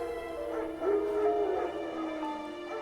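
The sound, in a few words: wild dogs barking in The Witcher 3, video game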